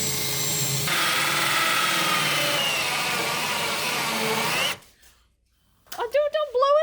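A power drill bores a hole through a kitchen countertop, whining steadily and loudly for several seconds before cutting off; after a short pause people begin talking nearby.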